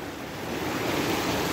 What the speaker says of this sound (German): Wir haben hier mäßige Wellen.